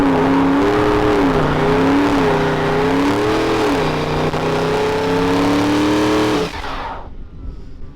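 A 2019 Dodge Charger Scat Pack with 485 hp roars under heavy throttle during a line lock burnout, a loud, sustained engine note wavering in pitch before abruptly dropping off to a fading idle.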